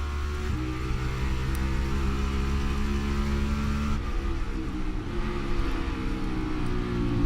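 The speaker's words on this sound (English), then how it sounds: "They're going to drag race down the back straightaway, side by side." NASCAR Cup stock cars race side by side down a back straightaway, their engines droning in a steady, sustained roar with shifting harmonic tones, loud and continuous throughout.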